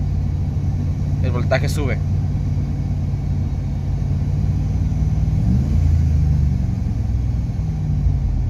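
A Jeep WJ converted from a fan clutch to electric fans idles with a steady low rumble, then revs briefly midway before settling. Someone speaks Spanish over it early on.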